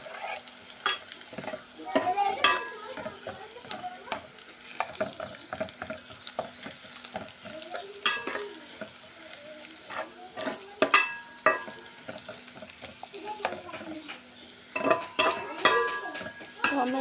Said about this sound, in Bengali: আমরা এটাকে পেস্টটাকে আরও বাদামি বাদামি কালার করে ভেজে নিতে হবে।